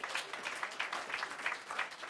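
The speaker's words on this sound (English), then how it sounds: "Applause." Audience applause at the SME Star Awards Ceremony 2018, a steady wash of many hands clapping throughout, moderately loud with no voices standing out.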